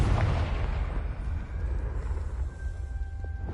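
A Confringo spell explosion in a Harry Potter video game, a deep rumbling blast at the start that rolls on as a low, sustained boom, fading slowly with a faint tone lingering.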